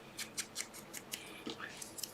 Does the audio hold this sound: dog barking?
no